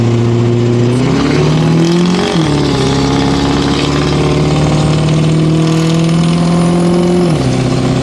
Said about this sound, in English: That turbo spools so fast for a big non-VGT.